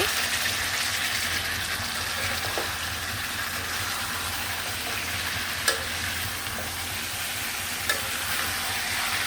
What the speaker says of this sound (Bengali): এভাবে চুলার হিট আঁচটা একটু কম রেখে ভালোভাবে মাংসগুলো কষে নেব।